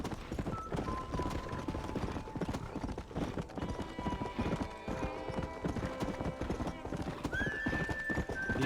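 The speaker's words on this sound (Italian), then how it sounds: "Il cavallo non ha fame." Steady clip-clop of horse hooves with a neigh, from the video game Red Dead Redemption, running continuously over game music and ambience, with a voice talking over part of it.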